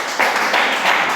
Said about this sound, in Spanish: Démosle un aplauso al Señor Jesús.